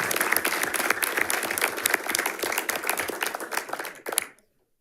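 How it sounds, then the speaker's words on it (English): Audience applause at a school board meeting, honoring a student athlete, dense sustained clapping from a room full of people for about four seconds before stopping abruptly. "about Levi is he was GSL Player of the Year, so give him a round of applause for that as well"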